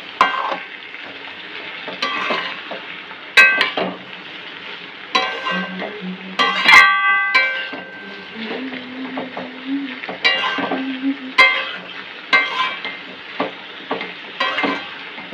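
Ingredients fry in a pan on the stove with a constant loud sizzle, punctuated by frequent sharp scrapes and clinks of a spatula stirring against the metal.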